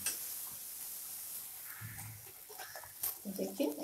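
A palak kachori, a spinach-filled fried pastry, goes into hot oil, setting off a soft, continuous hiss of frying, with a few clinks and light knocks toward the end.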